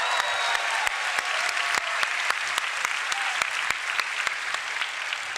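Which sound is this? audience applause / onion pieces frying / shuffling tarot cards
audience applause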